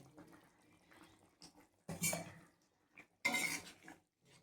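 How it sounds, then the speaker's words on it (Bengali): Fish curry with coriander leaves being stirred in a pot, two bursts of scraping and clinking of a utensil against metal separated by quieter kitchen sounds, fairly close. "দিয়ে ধনেপাতা দিলাম, দিয়ে একটু নেড়ে নেব"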